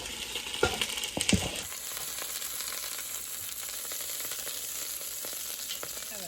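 Beef bones are flipped and seared in a hot pan with butter for bone broth. A few clinks and scrapes come first, then a steady, close sizzle holds to the end with no one speaking.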